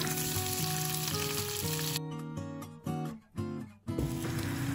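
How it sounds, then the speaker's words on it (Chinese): Chicken wings sizzle as they pan-fry in a wok, a loud, steady frying hiss with occasional stirring, under background music with no talking. "鸡翅先在锅里煎一下"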